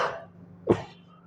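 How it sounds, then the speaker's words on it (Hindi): A single sharp, close cough bursts out during a math class lecture, following a softer breathy rasp in an otherwise quiet room. "एक खांसी आती है उसके पीछे फिर कंटिन्यूसली आती है,"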